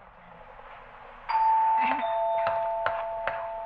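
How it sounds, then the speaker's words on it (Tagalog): A home doorbell chimes in a kitchen, a sudden bright electronic ring followed by a few sharp repeated tones, with a voice speaking briefly beneath it. "Mayroong nag-doorbell."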